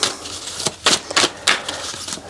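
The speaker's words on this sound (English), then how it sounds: "Give them a little bit more of a shuffle." Tarot cards are being shuffled by hand in quick, papery bursts of riffling and sliding, several uneven flurries close up with brief pauses between them.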